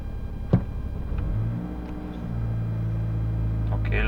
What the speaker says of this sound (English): the car is struggling to hold the RPMs